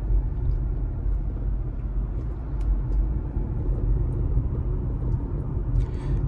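Hyundai Ioniq 5 electric car accelerating hard, heard as a steady low rumble of road and tyre noise from inside the cabin, continuous and fairly loud with no engine note.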